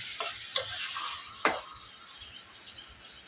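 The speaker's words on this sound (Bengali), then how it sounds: "দেখুন এবারে আলু আর মাংসটাকে একসঙ্গে ভালো করে কষে নেবো" Potatoes and chicken pieces frying together in a pan, a few crisp spatula scrapes early on, then a soft steady sizzle that fades slightly, close and quiet, no voices.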